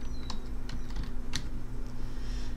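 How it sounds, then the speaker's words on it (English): Light, irregular keystrokes on a computer keyboard, faint clicks over a low steady hum, without speech. "I can come in and type in whatever I want"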